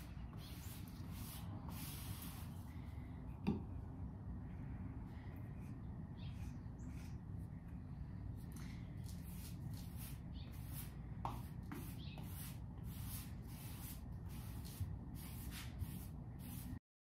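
A brush lays a coat of polyurethane onto a wooden table, making faint, soft swishing strokes in a steady rhythm against low background hiss.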